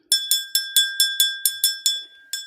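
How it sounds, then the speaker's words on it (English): A small bell is rung in a quick, even series of about nine bright, clear strikes, each fading briefly, followed by a short pause and one final ring, close and loud against silence. "Let me ring my bell."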